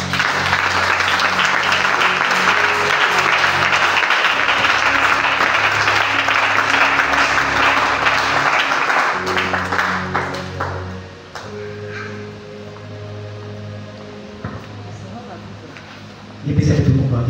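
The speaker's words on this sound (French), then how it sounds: "on va acclamer le Seigneur" A church congregation claps and cheers to acclaim the Lord, a dense, sustained applause with ringing tones that fades into quieter talk before a final burst of clapping.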